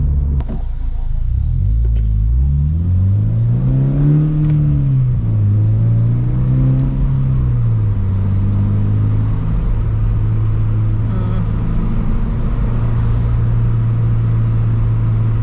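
A 2022 Subaru BRZ's cat-back exhaust drones at a steady low pitch, rising and falling briefly before settling into a constant, loud, booming hum, with no talking.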